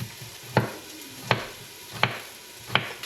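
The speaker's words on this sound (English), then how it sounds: "Sauteing some onions here." Onions sauteing in a pan with chopped potatoes for a venison vegetable beef soup, tossed by four evenly spaced scrapes over a faint steady sizzle, close and fairly quiet with no talking.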